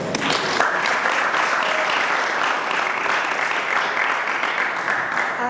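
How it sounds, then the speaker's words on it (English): A dense, steady round of applause fills the room as the audience claps for students at a 2017 symposium, loud and continuous from start to finish with no voices on top. "you all really deserve the biggest round of applause"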